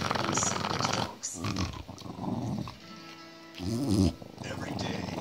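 A dog growling up close, low rumbling growls in several bursts, rising to a louder stretch near the end, with people talking in between.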